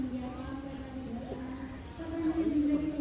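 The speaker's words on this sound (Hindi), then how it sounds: "टेडी रामपुरी कबूतरों का शौक़ करवा रहे हैं" Teddy and Rampuri pigeons coo in a loft in Karachi, soft low throaty calls rolling under a voice talking nearby.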